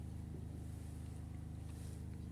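A reworked tractor-type engine idling steadily with a low, even rhythmic throb, close and continuous, with no voices.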